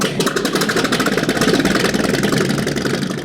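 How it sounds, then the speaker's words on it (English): A vintage wooden boat's engine running at idle, a steady rhythmic low chugging and knocking, fairly loud and close throughout. "we hear a wood boat crank up"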